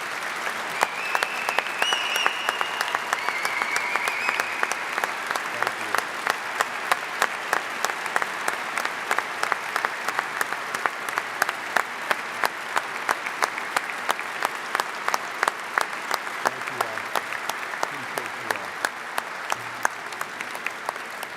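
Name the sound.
audience applause at ceremony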